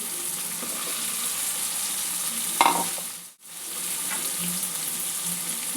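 Diced potatoes and tomato fry in a pan for a ridge gourd curry, a steady close sizzle with scraping stirring sounds, one brief louder clatter and a short dip to near silence midway.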